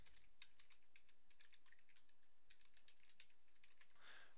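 Typing on a computer keyboard, with a faint, close run of quick key clicks in an uneven rhythm and a brief brighter burst near the end, no talking.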